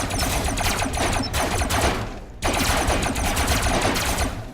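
Rapid turret gunfire from a robot vehicle in the combat game Robocraft rattles in dense continuous bursts, breaking off briefly before resuming just as loud and fast.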